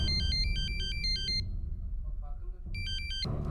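A phone ringtone chimes in repeated bursts of bright tones, stops, then starts again, over a low background hum.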